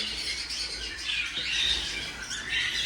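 Pet birds chirp together during feeding time alongside their newly hatched chicks, a dense continuous twittering at moderate volume with no voices over it.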